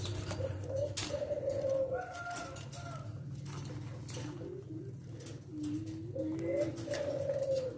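Leopard Silver spotted dove (tekukur) cooing in repeated drawn-out phrases, fairly close and clear, with some background noise and brief handling sounds between calls.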